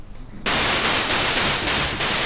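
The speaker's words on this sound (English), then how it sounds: "now we want to select noise on the first oscillator, and it's the wave number 287. It's noise." A Yamaha EX5 synthesizer oscillator set to a noise waveform lets out a steady, loud hiss of broadband white noise that starts suddenly after a short quiet lead-in and stays constant, with no talking.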